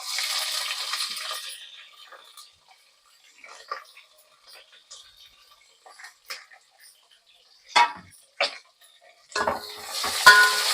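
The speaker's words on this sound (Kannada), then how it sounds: "ಸಾಸಿವೆ ಸಿಡಿತಾ ಇದೆ ಇದಕ್ಕೆ ಸ್ವಲ್ಪ ಕರ್ಬೇವಿನ ಸೊಪ್ಪು ಹಾಕ್ತಾಯಿದ್ದೀನಿ" Black mustard seeds spluttering in hot oil for a tempering, with curry leaves going into the pan, give scattered sharp crackles and pops, quiet at first and then louder and denser toward the end, plus a short burst of hiss.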